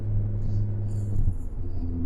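Car engine with a slight leak on the turbo wastegate dump pipe, a loud steady low rumble at idle or cruise with a faint airy hiss over it, close and continuous.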